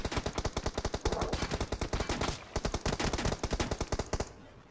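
Rapid automatic gunfire in the mobile battle-royale game PUBG Mobile, dense bursts of sharp shots in quick rhythm for several seconds, a brief pause midway, then one more burst before it cuts off.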